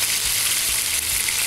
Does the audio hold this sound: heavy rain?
no